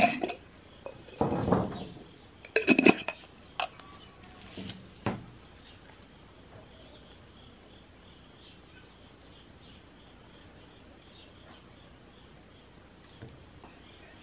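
Garlic cloves knocked around between kitchen dishes to loosen the peel, giving a few sharp clinks and rattling bursts in the first five seconds, then near silence with faint room noise.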